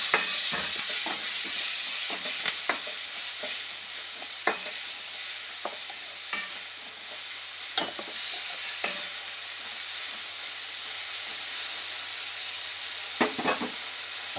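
Tomatoes and green chillies frying in oil for a spinach and mutton curry, a steady bright sizzle with repeated stirring scrapes and clinks of the spoon throughout, close and continuous with no talk.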